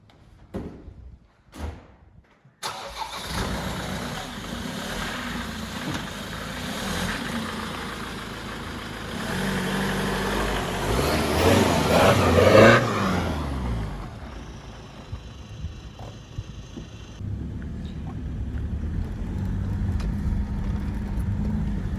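A Land Rover Defender fitted with TAROX six-pot brakes starts after a few clunks, then pulls away onto the road. The engine drone builds and swells as it accelerates, then eases back to a steadier hum, loud and close, with no speech.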